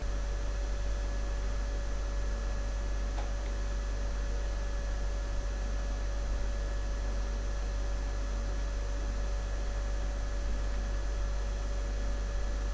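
The cooling fan built into a SPROLINK video switcher gives a steady, even whirring hiss with a low mains-like hum beneath it, running unbroken and alone at moderate level throughout.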